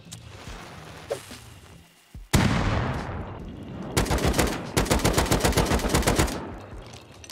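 Gunfire in a video game: a sharp shot, then loud, rapid automatic bursts that rattle in quick rhythmic volleys for several seconds, with no voices.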